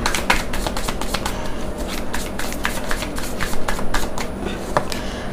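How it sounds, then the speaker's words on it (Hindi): A tarot deck being handled and a card drawn, heard as a quick run of crisp, close card flicks and riffling snaps, moderately loud and fairly continuous, with no voices. "एक कार्ड निकाल लेते हैं।"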